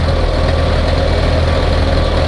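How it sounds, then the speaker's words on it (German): A Hanomag R460 tractor engine idles close by, a loud steady low-pitched diesel rumble with a regular throbbing pulse and no voices. "der Hanemark hat auf jeden Fall einen wunderschönen Klang"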